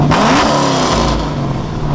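Blue Chevrolet Camaro with a custom cam and long-tube headers, pulling on a chassis dyno, its engine roaring loud and close as it revs, the pitch sweeping up and then holding.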